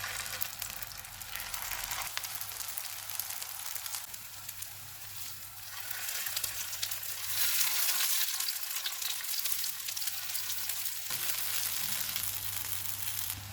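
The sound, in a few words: vegetable seekh kebabs frying in oil on a griddle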